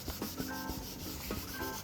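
Rhythmic scratchy rubbing of sandpaper against a wood slab, several quick back-and-forth strokes close by.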